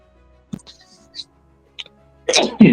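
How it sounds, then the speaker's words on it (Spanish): A person sneezes loudly near the end, after a stretch of quiet with a few small clicks and mouth sounds, close to the microphone. "estornudar es muy rico"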